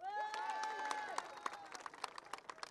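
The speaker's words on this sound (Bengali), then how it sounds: "এটার জন্য আমরা একটা নিজেদের জন্য নিজেরা একটা হাততালি দেই।" Riders gathered at a Yamaha bike show after a group ride break into scattered applause, with claps growing sharper and more distinct toward the end as voices fade beneath them.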